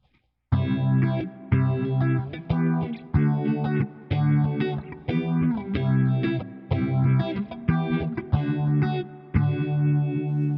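Electric guitar run through the phaser on a Valeton GP200 in warm mode, strummed in repeated rhythmic chord bursts with a slow swirling sweep, loud and close, with no voices.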